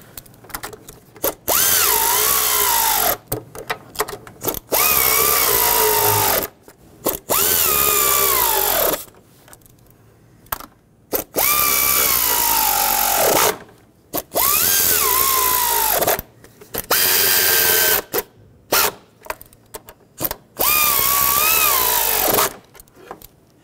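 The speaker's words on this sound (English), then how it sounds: "Now let's tighten these up. I'm just going to snug them at first, get the bolts nice and close" Power drill driving and snugging the upper intake manifold bolts on a 2008-2020 Dodge Grand Caravan 3.6L, close and loud in several separate whirring bursts of a few seconds each, with short quiet gaps between them.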